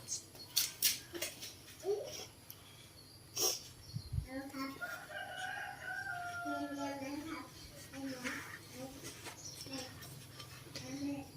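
A rooster crows in a long, rising and falling call at middle distance, with sharp clucks and other farmyard noises before it and a voice talking faintly in the background.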